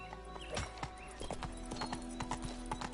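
Roach, Geralt's horse in the video game The Witcher 3, trotting with clear rhythmic hoof clip-clops over a low steady background, close and fairly loud with a faint snort or whinny.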